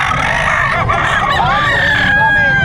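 A rooster crows loudly several times in a row, close by, at a chicken market in Bocaue, Bulacan, with other birds calling in the background.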